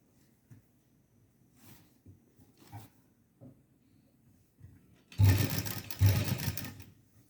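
A sewing machine runs in a short, steady burst stitching net lace onto a small dress, preceded by quiet handling and rustling of fabric.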